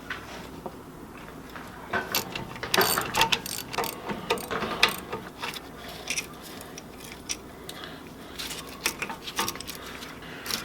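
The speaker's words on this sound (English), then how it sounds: "We've got two bolts to remove, one on top, one on the bottom. We're going to be using a 15mm wrench and a 13mm socket." A 15mm wrench and a 13mm socket work loose the rear brake caliper bolts on a 2006–2018 Jeep Wrangler JK, with close, irregular ratcheting clicks and metallic clanks in bursts, louder toward the middle.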